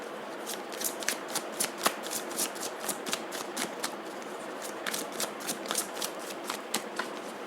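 Tarot cards being shuffled in a fast, steady run of crisp riffling slaps, close and fairly quiet, continuing without pause and with no voice over it.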